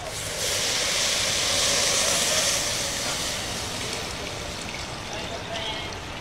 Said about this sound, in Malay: Lepas kita tumis, kita masukkan air.